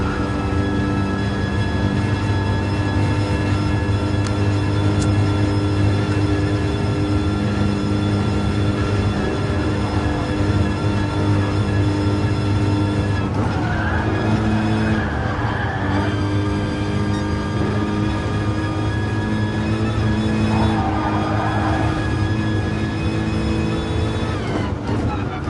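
Race car engine from Gran Turismo Sport lapping the Nurburgring, a steady loud drone with shifting pitch as it revs through corners, running continuously without pause.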